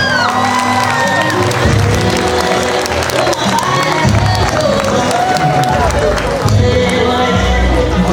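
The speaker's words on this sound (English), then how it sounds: "A resounding applause." Audience at a pharmacy induction and oath-taking ceremony for new pharmacists from Olabisi Onabanjo University breaks into sustained applause and cheering, loud and continuous for the whole stretch, with voices and music mixed into the crowd noise.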